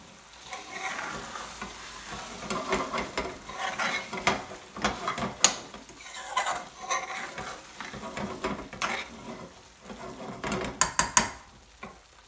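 Garlic chilli chicken sabzi stirred in a hot pan, with repeated scraping clicks of a spoon against metal over a soft sizzle, close and steady with small bursts of activity and no talking.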